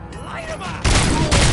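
Gunfire erupts in the game RoboCop: Rogue City, a loud burst of rapid shots that starts abruptly after a brief lull, with a second surge near the end.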